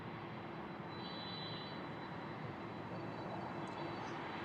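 A Lufthansa airliner at Frankfurt Airport gives off a steady, broad engine roar that holds at an even level throughout, with no voices.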